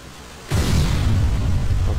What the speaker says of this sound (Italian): le esplosioni a plasma sono belle da vedere